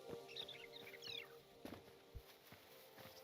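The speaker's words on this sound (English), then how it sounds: "Every time I hear that bird, I just think of Breath of the Wild." A bird in a Hytale forest gives a short chirping call, faint and high above quiet footsteps and ambient game sounds.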